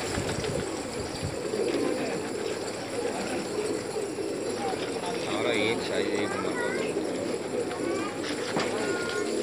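Pigeons coo softly in a loft holding several birds, among them Kabra and pink and black Patej pigeons, with brief calls rising over a steady rustling bed of activity while people talk nearby.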